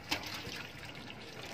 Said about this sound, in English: And we add water